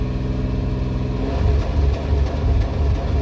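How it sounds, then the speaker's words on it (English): A car engine revs up and hits the rev limiter, giving a steady loud drone that rises and then stutters in pulses as the limiter cuts in, with no talking. "kind of hitting the rev limiter there, and then it drops back down"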